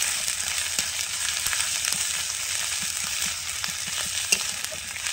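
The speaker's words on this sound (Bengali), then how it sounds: "দেখুন ভাজা হচ্ছে" Cumin paste frying with onion and spices in a pan, giving a steady bright sizzle with scattered small pops and faint stirring clicks throughout, with no talk.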